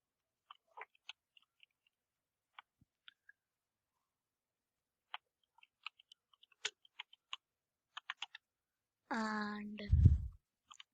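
Keys on a computer keyboard tapped while typing HTML code, sparse soft clicks in short irregular bursts, fairly close and quiet, followed by a louder burst of other noise at the end.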